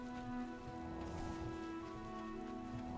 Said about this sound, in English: whenever there's rain in video games